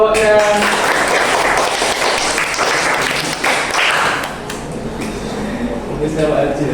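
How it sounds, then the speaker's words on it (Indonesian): Audience applause at a school project-based learning assessment event. Dense, steady clapping continues throughout, with voices mixed in underneath. "Tepuk tangan untuk bapaknya."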